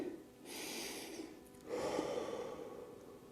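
Two long, deep breaths drawn and released during a stretching routine in hockey training, close and soft with a pause between them.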